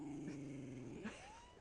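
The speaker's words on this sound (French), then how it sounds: "Quand les autres chiens font wouf wouf, il fait wouf wouf." A young puppy among Nenets herding dogs in Siberia lets out a sustained low growl that rises into a brief whining yip, close and fairly quiet.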